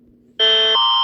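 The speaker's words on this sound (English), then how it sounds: "if you hear this alarm, they're about to drop some nukes on you" A nuclear attack warning alarm sounds after a brief quiet: a loud, steady electronic tone with layered harmonics that shifts pitch once partway through and then holds, with no voices.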